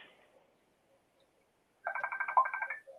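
An incoming video chat call rings on a phone, a quick warbling burst of rapid electronic tones lasting about a second, fairly faint after a stretch of near silence.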